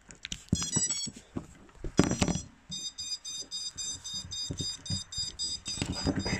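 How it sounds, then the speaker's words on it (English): Repeated electronic beeps from the ESC of an Eachine Wizard X220S drone with a faulty ESC during motor calibration, a string of short tonal chirps mixed with clicks and handling noise up close. "it just starts beeping like that"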